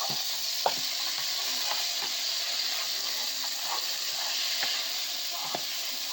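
Shrimp and chicken sear in olive oil with a steady, close hiss and crackle, broken by occasional light clicks of stirring.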